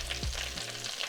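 Croquettes fry in hot oil with a continuous dense sizzle and a brief low thump near the start, close and steady for about a second.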